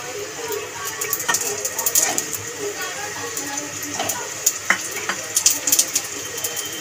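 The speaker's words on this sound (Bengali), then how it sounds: "এপিট ওপিট করে ভালো করে মোগলাইটাকে তেলে ভেজে নিলাম" A Mughlai egg paratha fries in oil in a pan, turned to brown both sides, giving a soft hissing sizzle with scattered sharp crackles and pops at moderate volume and no speech.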